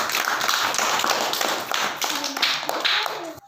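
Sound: children clapping hands

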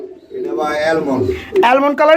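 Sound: Jacobin pigeons cooing at market

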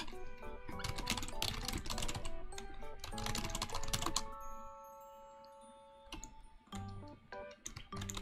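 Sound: fast typing on a computer keyboard

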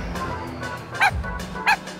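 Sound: dog barking and growling in an audio drama

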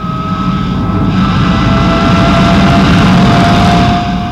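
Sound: Dassault Mirage jet fighter aircraft flying

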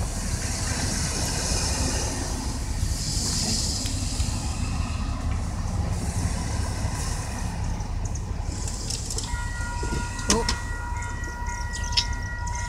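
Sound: commuter train passing a level crossing

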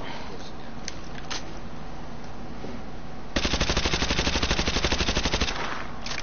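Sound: AA-12 shotgun firing in Call of Duty Modern Warfare video game

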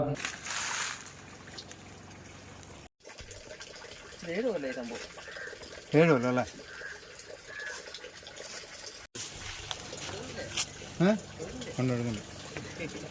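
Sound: borewell naturally overflowing with water

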